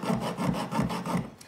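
A rectangular file rasps grooves into the metal shank of a wood turning tool in about five quick, even back-and-forth strokes, close and moderately quiet.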